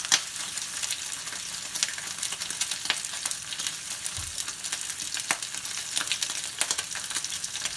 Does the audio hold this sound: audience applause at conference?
no